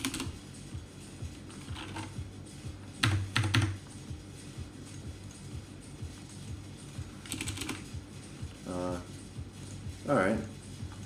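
Keys on a computer keyboard clatter in soft, scattered bursts of taps against low room hum, with someone talking intermittently over the typing.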